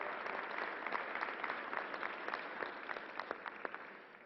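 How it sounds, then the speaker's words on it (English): A small group at a COVID-19 news briefing gives a round of applause, with crisp individual claps standing out over a steady patter that slowly tapers off. "Let's give a round of applause to the team who made this work."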